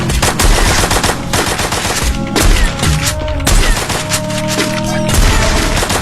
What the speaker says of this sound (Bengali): হ্যাকারের মতো ক্রুল গেমিং আমাকে এখানে হেডশট মেরে দিছে